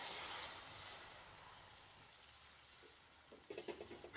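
Bitter flowers and onion stir-fried in a pan, a steady close sizzle that starts loud and eases off, with a few soft stirring scrapes near the end.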